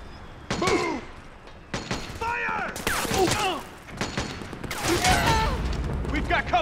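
Gunfire in Metal Gear Solid 4 pops through a busy combat scene, scattered shots and bursts mixed with shouting voices and loud clatter, close and fairly dense.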